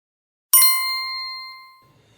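A single bright notification bell ding rings once, clear and close, then rings out and fades over about a second and a half against silence.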